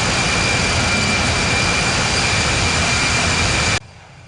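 Airbus A380 jet engines at takeoff thrust in the Infinite Flight game, Emirates livery, departing Sydney: a loud, steady broadband roar that runs unbroken for nearly four seconds, then cuts off abruptly, leaving only a faint hum.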